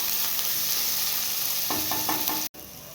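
Ginger, garlic and green chili paste sizzling in a hot pan, a steady frying hiss with a few short spoon-stirring knocks near the end before a brief cut.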